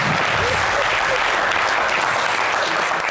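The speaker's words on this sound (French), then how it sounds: "On applaudit pour lui." Dense, steady applause from a studio audience on a French talk show fills the whole stretch, a continuous wash of many hands clapping at close range with no gaps.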